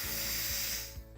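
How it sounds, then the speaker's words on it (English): An Instant Pot on quick release vents steam in a loud, steady broadband hiss with a faint mechanical rattle underneath, tapering off slightly near the end. "We're just gonna do quick release"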